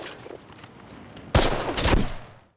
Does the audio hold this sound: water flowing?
no